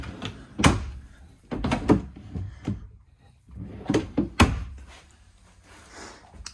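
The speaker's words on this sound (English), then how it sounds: "Very deep drawers." Several wooden thunks and knocks as deep dresser drawers slide open and shut inside a 2024 Jayco Eagle 370FBTS travel trailer, spaced irregularly, close by with a quiet room between them.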